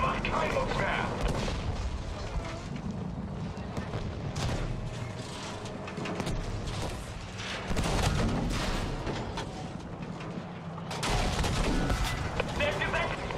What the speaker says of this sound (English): Feuer erwidert, Schreuder!